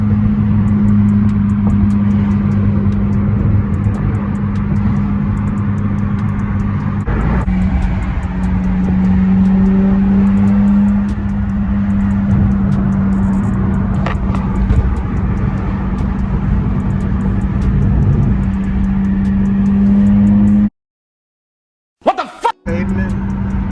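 A 2014 Honda Civic two-door coupe with a muffler delete exhaust drones loud and close at a steady low pitch for about twenty seconds, with a slight shift in tone around seven seconds, then cuts to near silence with a brief burst after.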